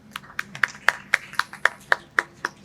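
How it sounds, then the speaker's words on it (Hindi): About ten sharp, evenly spaced hand claps ring out in a quiz-show studio for the winner, sounding like a small group or a single clapper rather than a full crowd. "तालियां"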